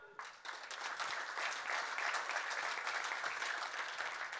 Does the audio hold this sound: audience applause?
yes